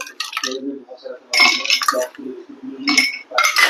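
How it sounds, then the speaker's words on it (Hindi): Ice cubes drop into a glass in a few sharp, bright clinks and rattling bursts, close and loud, with a voice talking in between. "पहले हम ग्लास में आइस डालेंगे"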